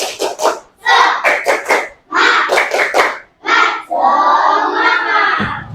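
Third-grade class 3A students perform a group spirit clap, loud close bursts of rhythmic unison clapping broken by short pauses, ending in a sustained shouted group chant.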